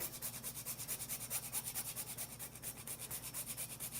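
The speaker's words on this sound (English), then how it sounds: "I just use my fine microplane zester to grate a little bit of the nutmeg" Whole nutmeg is grated on a fine microplane zester in quick, rhythmic scraping strokes, close and fairly quiet, with no talking over it.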